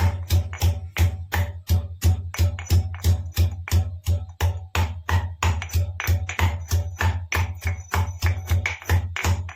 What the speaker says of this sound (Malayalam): ഇതൊന്ന് ആദ്യം ചതയ്ക്കാം നന്നായിട്ട് ചതച്ചിട്ട്